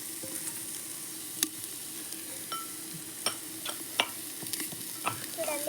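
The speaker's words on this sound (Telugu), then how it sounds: "చూడండి హీట్ అవుతున్నాయి చికెన్" Chicken heating in a clay pot gives off a soft, steady sizzle with scattered sharp pops and crackles, fairly quiet and close.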